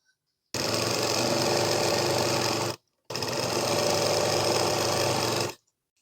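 A sewing machine stitches a folded fabric belt for a kitchen apron in two loud, steady runs of about two seconds each, separated by a short pause.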